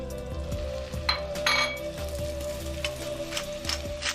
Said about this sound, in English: Just soften the onion, and then I'm going to add some mushrooms.